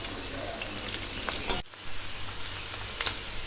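Chicken 65 deep frying in hot oil until crispy, a soft continuous bubbling sizzle with a brief clatter and a short dip midway, heard close with no talking.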